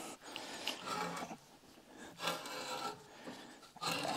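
A tool rasps through steel threads being cleaned and chased, giving repeated scraping filing strokes with short gaps between them, close and moderately loud with no talk.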